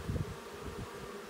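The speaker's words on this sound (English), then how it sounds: "You can see here that some of the bees have already made it up into the top of the hive." A honeybee swarm buzzes in a hive fitted with a sugar-water feeder, a low, steady droning hum close by with slight swells, and no voices.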